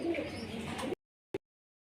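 A Dobaj pigeon coos softly for about a second, then a brief second coo follows after a short silence.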